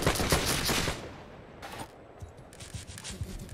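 A volley of musket fire in Bannerlord erupts as a rapid ragged burst of many loud cracks, then thins to scattered distant shots and faint rumble.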